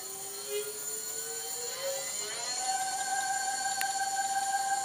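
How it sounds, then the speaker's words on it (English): Electric hub motor driving the front wheel of a Palm Springs cruiser bicycle via its electric throttle, a rising whine that climbs in pitch and settles into a steady electric hum, close and continuous with no talk. "once I turn that on, you'll see that that activates the electric throttle to power the front wheel"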